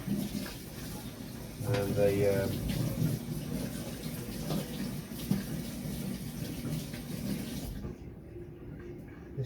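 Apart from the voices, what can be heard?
water running while rinsing aquarium filter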